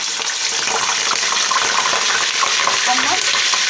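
Chicken pieces frying in hot oil give a loud, dense, continuous sizzle and crackle close up, with no pauses.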